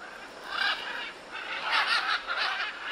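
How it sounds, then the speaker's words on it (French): Noisy exotic birds in Honduras give loud, harsh squawking calls in several bursts, close and raucous, with no talking. "Ils sont joyeux, bruyants et font partie des oiseaux les plus intelligents au monde."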